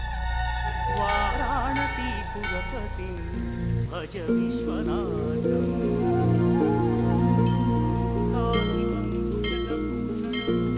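Rain patters steadily throughout a dramatic scene from a Tamil action film, the hiss of falling drops sitting beneath loud swelling film music and brief voices.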